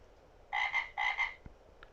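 Frogs at a pond give two close, loud croaking calls in quick succession, each a pulsing rattle, followed by a faint single click.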